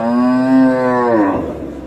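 A Holstein Friesian dairy cow at the Khochabari cattle market gives one long, loud, close moo that trails off alone.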